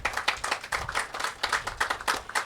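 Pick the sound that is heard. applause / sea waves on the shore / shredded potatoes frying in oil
applause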